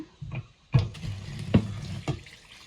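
Onion peels washed with water in a bag, heard as irregular splashes, sloshes and crinkling handling sounds, several distinct bursts at close range with quiet gaps between them.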